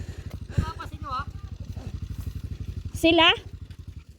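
Motorcycles idle at a motorcycle terminal, a close engine putting out a steady low throbbing pulse while people talk briefly over it.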